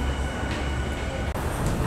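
Tokyo Metro Fukutoshin Line subway train running, a loud continuous rumble and rail roar filling the whole moment with no pause or voices.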